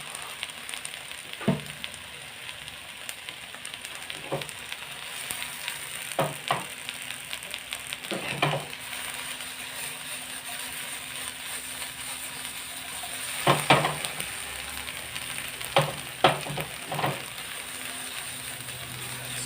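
Green chillies and a spoonful of cumin seeds sizzle in hot oil for a tempering, a low steady hiss broken by scattered sharp clicks and taps from a utensil. The sound stays close and fairly quiet throughout.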